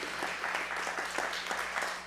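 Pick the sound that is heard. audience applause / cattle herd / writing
audience applause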